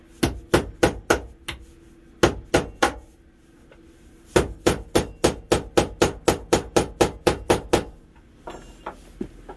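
A soft non-steel hammer strikes threads on a Honda Z50 during teardown, delivering sharp, ringing blows in quick rhythmic bursts separated by short pauses, loud and close with no voices.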